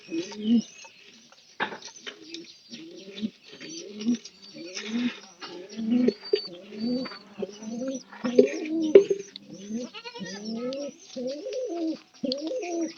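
Repeated low, throaty pigeon coos in a steady rhythm, close by and fairly loud, with some faint rustling between calls.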